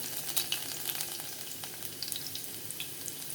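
Garlic pieces with a pinch of mustard seeds and cumin frying in hot oil for a cowpea (chori) curry, a soft, steady sizzle with scattered small pops and crackles.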